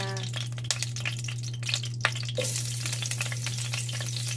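Onion sizzling in a hot pan as the base for a sweet and sour sauce, with steady frying crackle and a few sharp clinks and stirring scrapes, a constant hum beneath and no talking.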